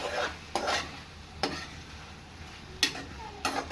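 A spoon stirs prawn curry in a pan, giving several distinct scraping strokes spaced a second or so apart over a faint sizzle.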